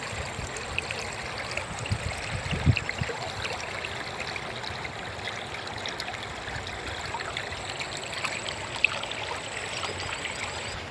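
Clean stream water in a quiet village flows in a steady, continuous babble, close and even throughout with small splashy flickers and no talking.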